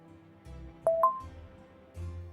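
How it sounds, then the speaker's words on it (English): Phone notification from a dating app, two short bright electronic beeps in quick succession over a low muffled background, close and clear, with no talk. "my phone suddenly blew up"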